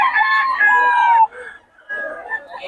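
A rooster crows loudly and close by at a chicken market in Bocaue, two drawn-out calls separated by a short pause, with light background activity.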